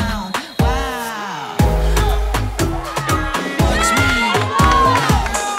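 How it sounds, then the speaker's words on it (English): A busy basketball gym, with a crowd shouting and cheering in bursts mixed with sharp squeaks and ball thumps, loud and lively throughout a girls' game. "I hear the crowd go, oh, go pass,"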